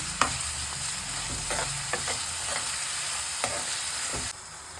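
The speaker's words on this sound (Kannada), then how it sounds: "ಸ್ವಲ್ಪ ಅದನ್ನು ಚೆನ್ನಾಗಿ ತಿರುಗಿಸಿ ಫ್ರೈ ಮಾಡ್ಕೊಳ್ಳೋಣ." Vegetables for upma stirred and fried in a pan, with a steady hiss of oil and a few sharp spoon knocks and scrapes against the metal, close up, with no voices.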